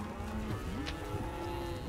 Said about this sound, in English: This is a remarkably brave cow.